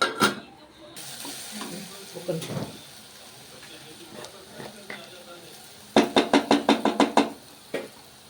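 Softened onions are stirred in a pan with a faint sizzle under quiet talk, followed by a quick run of sharp spoon knocks against the pan's edge.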